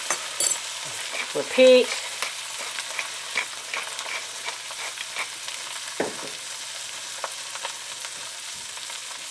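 Meat for a roast sears in a hot pan, a soft continuous hiss with scattered faint ticks and one or two louder knocks, and a brief voice near the start.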